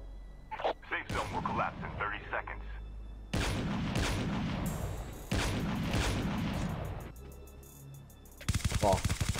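Call of Duty Mobile battle royale gameplay with several loud bursts of rapid automatic gunfire separated by brief pauses, followed by a sharp rattling volley at the end.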